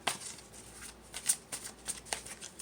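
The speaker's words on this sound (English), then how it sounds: "y'all want me to shuffle some more" Tarot cards are shuffled by hand in a series of quick crisp riffles and slaps, about six bursts over a few seconds, close and soft with no speech.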